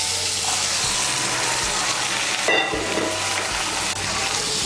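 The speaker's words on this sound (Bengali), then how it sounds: "এখন এর মধ্যে আমি দিয়ে দেব সেদ্ধ করা মটর।" Boiled peas are stirred into fried potatoes and spices in a hot pan, a steady close sizzle with a brief splash and a few soft scraping strokes, no talking.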